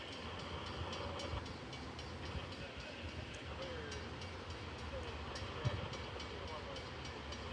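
Long BNSF freight train of tanker cars rolls by, a steady rumble with rhythmic wheel clicks and faint squeals, heard from a short distance without talk.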